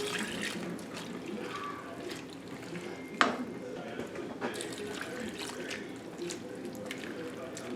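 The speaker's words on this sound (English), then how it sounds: "so I'm gonna add in some water now." Water pours steadily into a pot with a soft splashing hiss; a single metallic clink rings out partway through.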